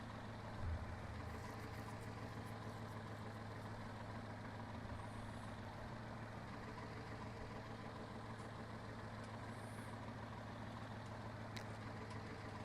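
A farm tractor engine in Farming Simulator 19 drones steadily at an even, low idle-like rumble for the whole stretch, with no voices over it.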